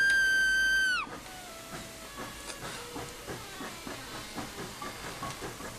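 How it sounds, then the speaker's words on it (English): A steam locomotive whistle in Train Simulator 2017 gives one loud, sustained multi-tone blast that cuts off, followed by hissing steam and rhythmic chuffing with faint squeals as the engine moves off. "that's my whistle"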